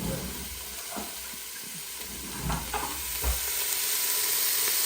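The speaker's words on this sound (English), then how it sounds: "So you preheated this, that's why it's sizzling." Continuous sizzling from vegetables cooking in a preheated multicooker pot, with a few soft clinks and scrapes of stirring throughout.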